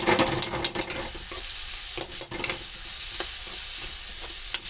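Onions browned in a pan sizzle with ginger garlic paste added while a spoon stirs through them, giving steady frying hiss broken by frequent scraping clicks, close and clear with no talking.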